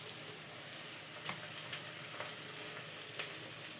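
Tomato frying with salt in a pan for egg chow mein, a steady close sizzle with a few soft stirring scrapes and clicks, no voices.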